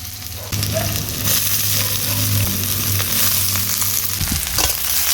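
Potatoes and cauliflower stalks hit hot oil with green chillies in a pan of spinach ghonto, a loud steady sizzle with scraping stir strokes throughout, no talk.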